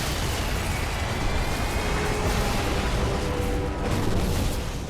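A loud, sustained explosion booms and rumbles as an aircraft carrying a core is shot down in Halo Wars, with crackling bursts rolling on for several seconds and no one speaking.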